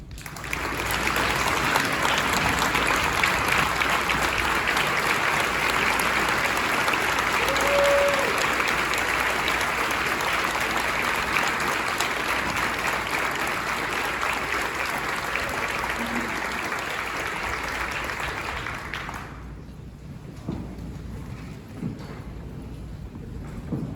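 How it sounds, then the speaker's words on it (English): Standing ovation at a high school class of 2021 awards night: dense, sustained applause from a large crowd filling the hall for about nineteen seconds, then abruptly thinning to a quiet room with scattered faint noise. "Those 2, I think they deserve a standing ovation"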